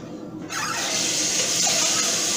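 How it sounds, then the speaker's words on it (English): Tap water runs loud and steady into a pot being rinsed out after noodles, a soft drip giving way to a full gushing stream after half a second. "I'm going to rinse this pot out"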